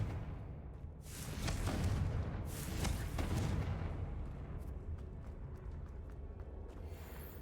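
Confringo fire spell explosion in Hogwarts Legacy, a deep booming blast with a rumbling burst that swells and then trails off into a lingering low roar with faint crackles.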